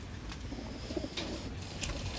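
Pigeons at a bird sale cooing in low, soft, continuous murmurs, with a few faint higher chirps above the steady background.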